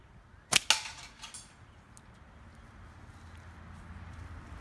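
A slingshot fitted with TheraBand Gold flat bands strikes a can: two sharp, close metallic cracks in quick succession, then a low, quiet rumble of background noise.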